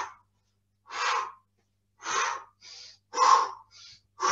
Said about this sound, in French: Vous entendez ma respiration?